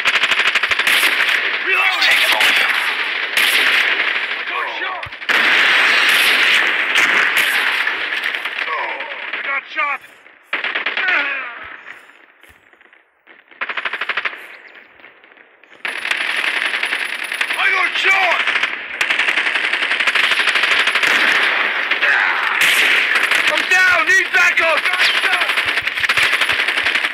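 Rapid automatic gunfire in the mobile shooter Call of Duty Mobile, loud sustained bursts with metallic clinks and brief pauses, interrupted by a short quieter lull midway.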